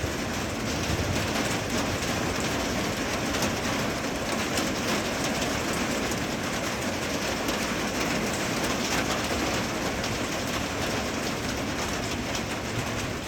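Dense, steady patter of hailstones drumming on a car windshield, a continuous roar of impacts with no voices.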